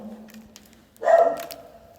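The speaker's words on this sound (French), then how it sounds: "Madame, tenez le chien, s'il vous plaît, madame." A dog gives a single short bark in a New York setting, close and moderately loud after a quiet stretch.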